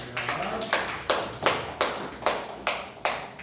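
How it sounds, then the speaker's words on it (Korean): A church youth congregation claps in unison at a steady, slow rhythm, about eight sharp group claps spaced evenly, fairly close and clear without talk. "박수로 일어나겠습니다."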